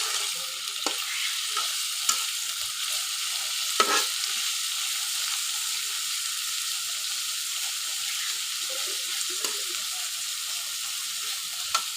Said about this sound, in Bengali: পেঁয়াজটা ভাজা হওয়া পর্যন্ত আমি অপেক্ষা করব।